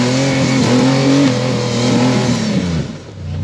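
A rock crawling buggy with a small six-cylinder engine revs hard in a yard course, a loud close snarl that climbs and dips in waves before easing off near the end.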